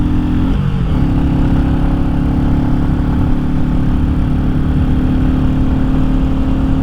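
Royal Enfield Classic 350 motorcycle engine held at high revs around 4,500 rpm, a loud, steady droning roar throughout, with a brief shift in pitch near the start.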